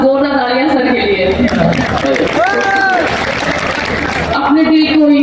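Audience applause for the host at a mushaira poetry gathering, a dense, steady roar of clapping from a large crowd that continues throughout, with a voice and sustained tones mixed into the noise.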